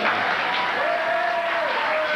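Late-night television studio audience applauding in New York City, a steady, moderately loud burst of clapping that fills the short moment without a break.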